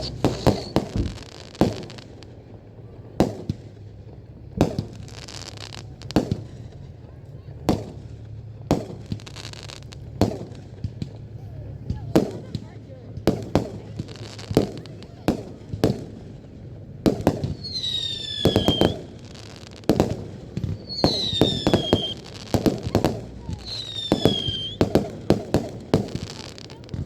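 Canada Day fireworks burst repeatedly overhead, sharp booms and crackles at an irregular pace, some with whistling rockets rising late on, while a small group of people talk softly nearby.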